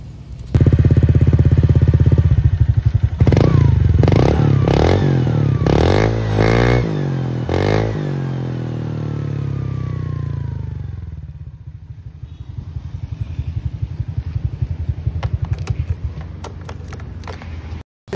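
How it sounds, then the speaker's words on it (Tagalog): Honda Click v3 scooter fitted with an aftermarket 4-road exhaust pipe, revving hard in a series of sharp throttle blips that rise and fall, then settling into a loud, throbbing idle close by with no talk. "Ito na yung sound test ng 4-road pipe natin."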